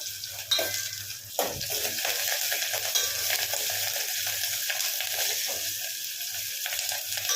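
Onions, ginger, garlic cloves, green chillies and curry leaves frying in hot oil for an old-style tomato rasam, a constant close sizzle with occasional stirring scrapes.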